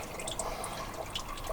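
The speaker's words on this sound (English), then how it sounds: "there we got the first lot of water coming out." Water drains from a supercharged classic Mini's engine cooling system, trickling and dripping steadily, a close, continuous splashing with small irregular drops, no voices.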